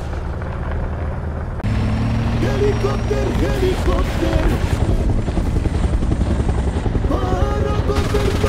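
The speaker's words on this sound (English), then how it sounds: "Helicopter!" A helicopter in a video game gives a loud, continuous rotor drone that swells after the opening seconds, with game noises and talk over it.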